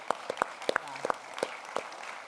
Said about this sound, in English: round of applause for the Pacers